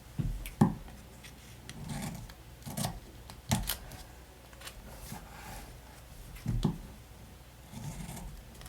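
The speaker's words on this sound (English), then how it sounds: "So I'm going to cut that one out." Scissors snipping around a paper planner sticker, a series of soft, close cutting clicks and rustles spaced irregularly with quiet pauses, no talking.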